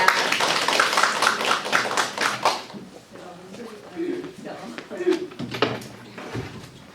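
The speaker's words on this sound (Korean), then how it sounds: "김용무 강사님을 뜨거운 박수로 환영해 주시기 바랍니다" An audience at a Korean soybean paste-making lecture applauds a lecturer with a burst of dense clapping that fades out after a few seconds, followed by a few scattered taps and someone speaking.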